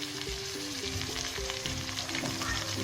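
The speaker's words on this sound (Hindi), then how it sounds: "अब इसमें मैं टमाटर डालने लगी।" Tomatoes dropped into a pan of browning onion, garlic and ginger for chicken kofta curry, setting off a steady, loud sizzle and crackle that runs without a break and with no voices.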